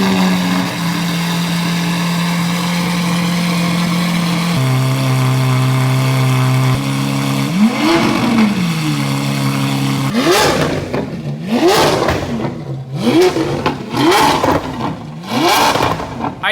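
A fast car engine idles steadily, then rises through a string of quick, sharp revs that climb and drop in rhythm, loud and close.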